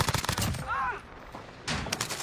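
Video game gunfire: loud rapid bursts of shots at the start, then a brief lull with a high whine before another burst near the end.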